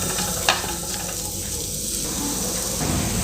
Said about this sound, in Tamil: இப்போ இதை வெங்காய தக்காளி கூட நல்லா கலந்து கொடுத்துக்கலாம்.